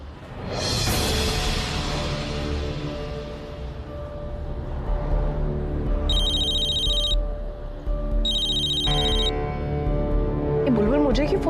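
A phone rings with an incoming call in two short bursts of electronic ringing amid background music and drama score, in a Hindi TV serial scene.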